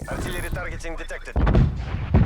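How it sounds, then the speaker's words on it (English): Artillery fire in Black Ops Cold War multiplayer on the Moscow map: a radio-style voice line plays first, then heavy booming impacts land in a loud burst, with another thump near the end. "Net call. Incoming artillery."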